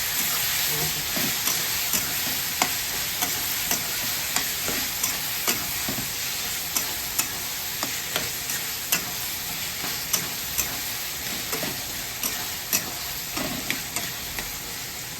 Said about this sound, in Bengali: একটু নাড়িয়ে দিই।